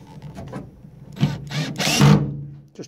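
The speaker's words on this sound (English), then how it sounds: "I actually take a self-tapper and I screw it into place" A power driver runs a self-tapping screw into the rear trim of an Audi ute, in short whirring bursts that build to a longer grinding drive, close and loud.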